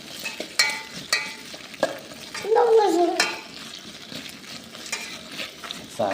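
Food frying in a pan in a home kitchen is stirred, giving steady scraping and clinking strokes over a soft sizzle, with a louder scrape partway through and faint household noise behind.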